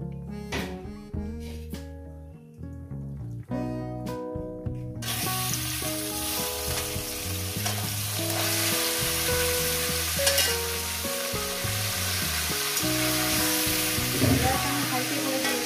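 Chicken pieces fry on high heat in oil with turmeric, giving a loud, continuous sizzle with stirring scrapes that starts after a few clinks of utensils.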